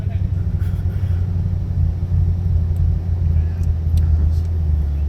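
A 2007 Mercedes-AMG SL55 engine gives a steady, deep rumble from inside the car on an evening drive, with people talking over it.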